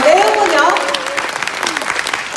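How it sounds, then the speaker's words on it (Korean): Applause from a seminar audience at a leaders' speech event in Ilsan KINTEX, the clapping starting strong and tapering, with a speaker's voice talking over it throughout. "지금부터 스피치 들으실 때마다 큰 박수로 여러분이 환영해 주시면 감사하겠습니다."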